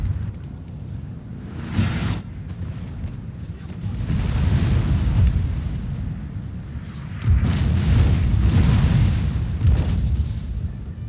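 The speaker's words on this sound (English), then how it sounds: "Hopefully my artillery will shoot soon." Artillery fire in Napoleon: Total War during an online France vs. Prussia battle, with several deep booming bursts rolling over a rumbling battlefield bed, mostly mid-distance, and a voice speaking briefly.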